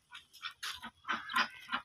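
Ducks quacking in a village, a rapid run of loud, close, nasal honking calls in short bursts, with no speech over them.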